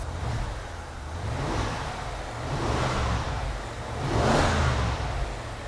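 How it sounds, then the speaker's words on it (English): A BMW E70 X5 V8 engine warming up idles smoothly, with three gradual revs rising and falling in steady swells; no voices are heard over the running motor. "Idle goes down. Sounds nice and smooth."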